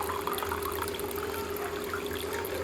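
Water poured into a drinking glass in a home kitchen, a soft steady trickle running continuously for under three seconds, faint and close with a light hum behind it.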